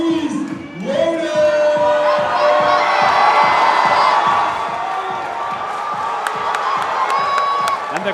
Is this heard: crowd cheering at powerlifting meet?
yes